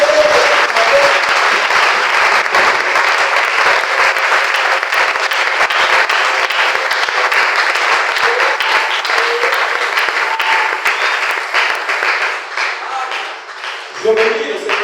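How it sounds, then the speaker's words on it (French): Church congregation at a Sunday morning service applauding and cheering to acclaim Jesus, a loud, sustained wash of clapping and voices that holds steady for the whole stretch before thinning slightly at the end. "Est-ce qu'on peut acclamer Jésus?"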